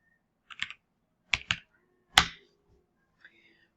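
A few separate keystrokes tapped on a computer keyboard to enter a decimal number, in short clicky clusters with pauses between, close and fairly quiet in an otherwise still room.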